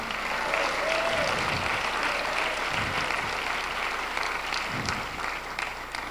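A church congregation claps together in a sustained, dense round of applause with a few voices and cheers mixed in, loud and close throughout.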